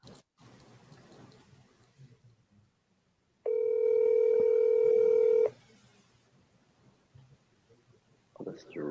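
A telephone dials a number, followed by a steady, loud dial-type tone lasting about two seconds in a quiet room, with faint background rustle and a brief sound at the end.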